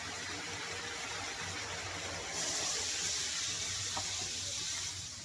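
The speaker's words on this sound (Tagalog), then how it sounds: "Lagyan na natin yung gata." Coconut milk pours into a tilapia stew with vegetables: a soft, steady liquid rush that swells partway through and continues to the end, over faint background noise.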